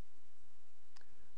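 A single short mouse click sounds faintly about a second in, close and crisp against near silence.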